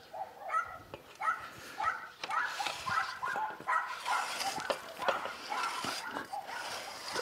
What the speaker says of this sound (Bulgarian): Това са от тези малките безполезни с размер на котенца кучета, които само вдигат шум и за нищо не стават.